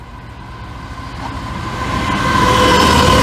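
A train approaching Appleby level crossing with a rising rumble that swells steadily louder, a steady tonal whine growing over the low roar.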